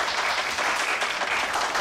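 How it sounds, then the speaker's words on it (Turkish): Audience applause from a crowd at a talk-show style event in a Turkish comedy series, a dense continuous wash of clapping that holds steady and loud throughout, with no voices over it. "Beni mi alkışlıyorlar, kime alkışlıyorlar?"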